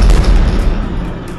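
A warship fires a warning shot in a naval combat video game, a loud close boom followed by a dense rumbling roar that fades over about a second.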